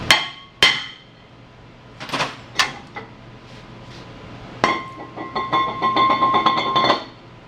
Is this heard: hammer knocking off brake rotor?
yes